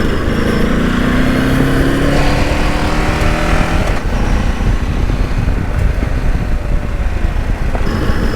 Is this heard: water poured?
no